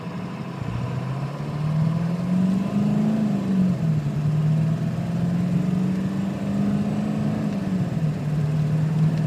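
A truck engine pulls away from a stop and climbs through the gears, its steady drone rising and dipping with each shift, loud and close.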